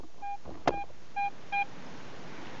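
Three short, high electronic beeps from a Garrett AT Pro metal detector at a WW2 Australian Army hospital site, spaced apart, with a brief click in between over faint background hiss.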